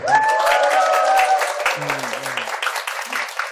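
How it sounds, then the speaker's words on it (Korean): A small live audience breaks into applause, close clapping that runs throughout the short span while voices call out over it. "박수"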